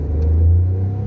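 A 69-horsepower three-cylinder small car engine runs with a deep, steady, close rumble that swells slightly in the middle as it revs.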